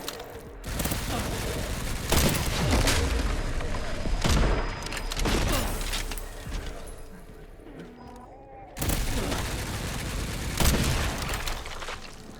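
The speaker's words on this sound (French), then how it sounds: "Encore une putain de tourelle." Gunfire from a turret in the video game Resident Evil Requiem, with bursts of shots and booms in repeated clusters, mixed with game sounds and a voice talking over them.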